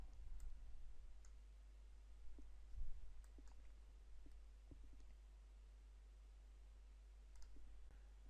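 Computer mouse clicks in a quiet room, a handful of faint, sharp, sparse clicks spread out over a low steady hum.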